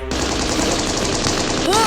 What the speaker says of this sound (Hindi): झंडा अभी लहराया ही था कि अचानक गोलियां बरसनी शुरू हो गई।